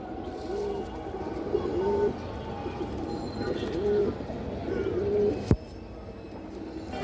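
Pigeons coo softly in repeated low phrases close by, with a sharp brief click partway through and a quiet background.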